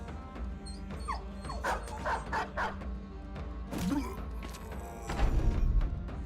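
A dog barks in the Battle Brothers video game, letting out a quick run of sharp yips and woofs amid battle clatter and low thuds, followed by a heavier impact.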